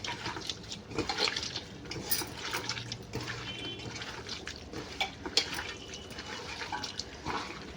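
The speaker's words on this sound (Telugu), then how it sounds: "ఇప్పుడు ఇందులో కొంచెం వాటర్ పోసుకొని కుక్కర్ విజిల్స్కి పెట్టేసుకుందాం" Water is poured into a pressure cooker holding pieces of mutton intestine, a soft, uneven splashing and trickling with light clinks of the metal pot, fairly quiet and close.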